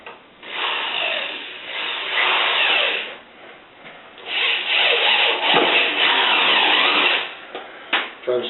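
Drill driving thin-threaded drywall screws into scrap plywood, several loud whirring bursts of a few seconds each separated by short pauses, with a brief rattle near the end.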